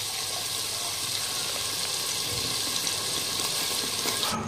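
Water swirled in a mixer jar of masala paste is poured into a cooking pot for a fish curry, a loud, continuous rushing pour that runs steadily and stops abruptly at the end.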